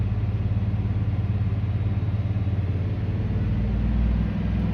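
A Workhorse 8.1 V8 engine held at about 2,000 RPM gives a steady, loud low-pitched drone with a throbbing pulse, swelling slightly near the end.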